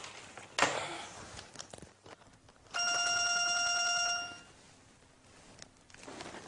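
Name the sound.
telephone ringing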